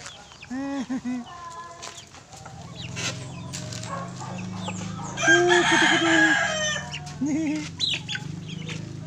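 A rooster crows loudly and repeatedly nearby, with clucking hens and other farmyard fowl calling in the background.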